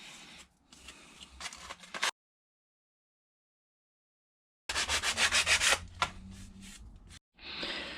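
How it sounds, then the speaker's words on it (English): Close rubbing and sanding strokes on a small GoPro mount piece, roughening it for glue, in short bursts with a silent gap between, the later strokes rhythmic and brisk. "good idea to sand it up, get it nice and rough on that side"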